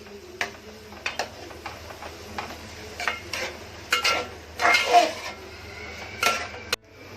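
Big sliced onions tossed into a cooking pan for soya chilli, a series of scattered scrapes and clatters with a faint sizzle, ending in a sharp knock.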